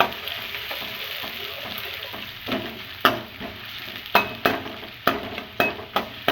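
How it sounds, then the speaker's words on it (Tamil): Onions sauté for a restaurant-style chilli chicken in a hot pan, a steady close sizzle broken by a series of sharp scrapes and clinks as they are stirred, quickening toward the end, with no voices. "வெங்காயத்தை நல்லா வதக்கி விடணும்."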